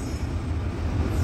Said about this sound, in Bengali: এই যে ট্রেন এসে গেল